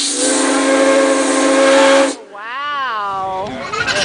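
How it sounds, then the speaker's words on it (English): Steam whistle on a steam-powered tractor blasting loud and steady for about two seconds, then cutting off into a wavering, warbling tail of fading whistle and hiss as it is released. "She wants to blow the whistle."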